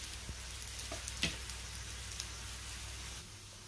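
A cabbage thalipeeth flatbread roasts in a little oil on a pan, its underside browning; a faint, steady low hiss of frying with an occasional soft tick.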